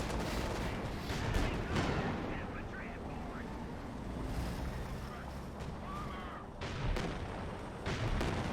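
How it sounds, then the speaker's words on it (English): Sherman Firefly tanks firing in the real-time strategy game Company of Heroes 2 on a windswept steppe battlefield, several heavy cannon blasts thumping over a constant rumbling battle din while a voice talks throughout. "Fireflies are opening fire."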